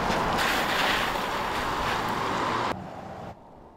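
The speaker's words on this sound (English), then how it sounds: "You could really see the strong winds have picked up" Strong wind roars and buffets across a flooded coastal street at Manasquan during tidal flooding, a loud steady rush that cuts off abruptly near the end, leaving a quieter hush.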